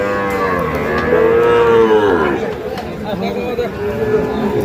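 Sahiwal calves moo loudly at a busy cattle market in Dinajpur, one long drawn-out low call followed by further lowing, over crowd chatter and talk in the background.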